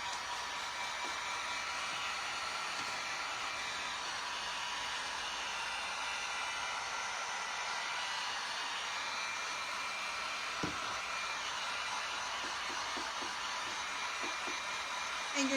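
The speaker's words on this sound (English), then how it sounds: "I'm gonna use my stronger heat tool" Steady, loud rush of hot air from a heat tool drying craft paint on a handmade Valentine's Day sign, a continuous whooshing hiss held for the whole stretch with no talking.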